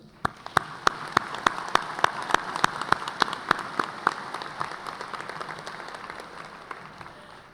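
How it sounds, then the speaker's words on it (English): A crowd applauds at a high school commencement ceremony, with steady clapping from many hands and a few loud, rhythmic claps standing out near the front. "For that, you deserve a round of applause."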